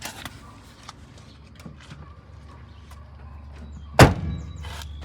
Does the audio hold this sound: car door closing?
yes